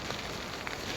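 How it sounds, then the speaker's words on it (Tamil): Steady rain falls outside a tent during a hike to Kabaragala, the highest peak of Dolosbage, a dense, even hiss that fills the whole moment with no voices. "சரியாக மழை பெய்யுது வெளியில்"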